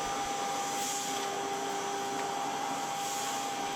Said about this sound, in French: Alors là j'ai mis de la terre et quelques graviers, histoire de tester la fonction aspiration